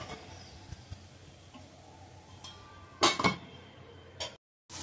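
A lid is set down on a pan of finely chopped fenugreek leaf stir-fry, giving a couple of brief, sharp metallic clinks close by, with a faint kitchen background and no talking.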